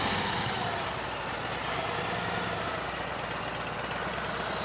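A trike's engine idles with a steady, low rumble, unchanging, moderately loud and close, with no voices over it.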